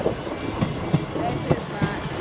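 A Class 158 passenger train rolls past the Tattershall Road level crossing in Lincolnshire, its wheels giving a steady, close clickety-clack over the rail joints above a broad rumble.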